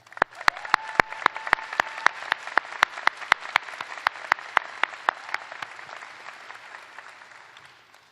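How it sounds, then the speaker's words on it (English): Audience applause fills a medical school precommencement ceremony hall, with steady crowd clapping under a string of sharp, evenly spaced louder claps near the microphone, holding strong for about eight seconds before easing slightly. "Please give them a round of applause"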